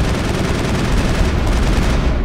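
Dense, continuous gunfire and explosions roar from the video game Mass Effect, loud and unbroken with no speech.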